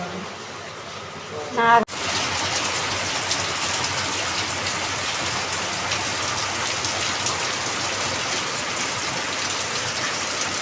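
After a short quiet moment, steady heavy cyclone rain pours down, a constant dense hiss of drops on surfaces that continues without pause.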